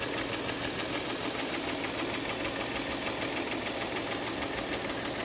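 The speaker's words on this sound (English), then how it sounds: "I just don't think she's running on all of the cylinders." A car engine idles roughly as if misfiring on a cylinder, a steady close mechanical clatter with an uneven knocking pulse and no voices.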